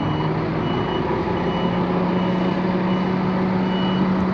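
A truck manoeuvres on a muddy haul road at a land bridge project, its reversing alarm beeping steadily over a constant engine drone, loud and close throughout.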